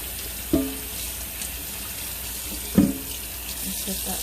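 Tap water runs steadily into a sink while something is rinsed off, a continuous close wash broken by two sharp knocks or clunks.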